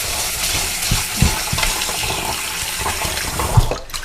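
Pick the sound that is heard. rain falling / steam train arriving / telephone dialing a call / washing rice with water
washing rice with water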